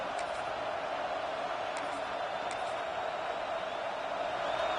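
Stadium crowd noise from the NCAA 26 college football video game, Florida Gators versus LSU Tigers, forms a steady, even roar that holds without break throughout, moderately loud with no clear peaks.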